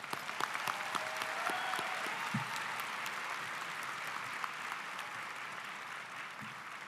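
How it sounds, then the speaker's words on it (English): Audience applause for the chamber singers at a high school commencement ceremony, a broad, even roar of many people clapping across a large space, steady throughout with a few sharper claps standing out. "Let's please give a round of applause to our chamber singers."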